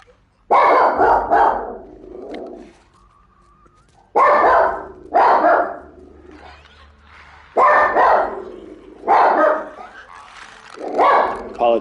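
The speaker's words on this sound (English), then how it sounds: "Apologize for the barking, guys." A pet dog barks in loud, close bursts of two or three barks separated by pauses, with quieter whimpering and grumbling between them indoors.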